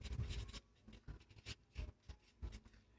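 A pen scratches across a surface in short, irregular strokes, faint and close, during a lesson on electrical current, amperage and power, with no voice over it.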